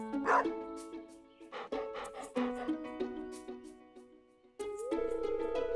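Stray dog in the farming game Stardew Valley, several short close barks and yips in an uneven sequence, with game music tones sustained beneath them.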